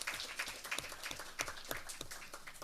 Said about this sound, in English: round of applause for Eric